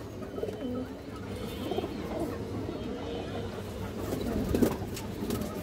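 Soft pigeon coos murmur steadily at close range, with faint rustling and a brief louder flutter near the end.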